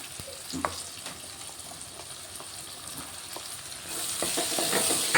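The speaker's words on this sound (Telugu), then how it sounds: "ఇవి కొంచెం ఫ్రై అవుతున్నాయి ఉల్లిగడ్డలు" Onions and green chillies fry in hot oil with a steady close sizzle, a few spoon scrapes and taps, and the hiss grows louder and brighter toward the end.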